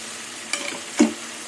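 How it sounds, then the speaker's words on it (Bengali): Pieces of fried pointed gourd are tipped into a pan of potatoes and spice paste, making two quick scraping stirs with a short sizzle, close and fairly loud, with no talk. "এবার ভাজা পটলগুলো দিয়ে দেবো"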